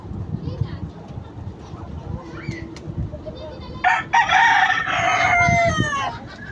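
A chicken caked in mud clucks and squawks loudly close by while being bathed, a burst of agitated calls, with people talking and shuffling around it.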